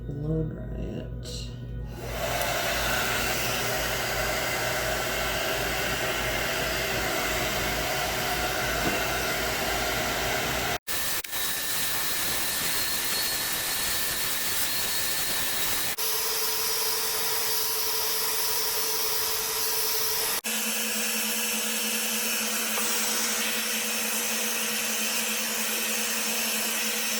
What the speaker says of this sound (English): Now I'm going to blow dry it.